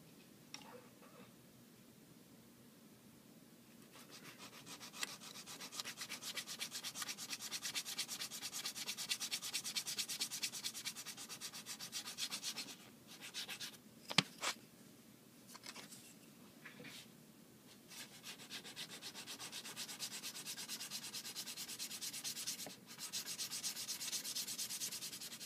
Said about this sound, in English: I've just got this piece of wood with a piece of sandpaper glued onto it, and just hold it on the edge